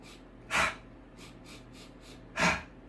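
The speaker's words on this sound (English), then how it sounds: "So I'm breathing in." Two sharp, forceful breaths drawn in close to the mic during punching bag training, about two seconds apart, with softer breaths between them.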